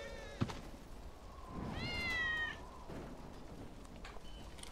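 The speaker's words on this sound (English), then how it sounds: "That's Wedge's cat" Wedge's cat in Final Fantasy 7 Remake lets out a single drawn-out meow at moderate distance, rising and falling over a low game ambience with faint clicks and thumps around it.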